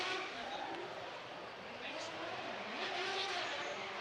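A Nissan R32 drift car revs and rips through a street-circuit course during qualifying, a faint, distant, sustained engine roar blended into a broad crowd-and-track wash.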